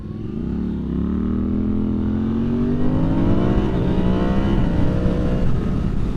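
A 2023 Yamaha MT-10 motorcycle engine revs gently at light throttle, a steady close-up rumble with slowly rising and falling pitch and no talking over it.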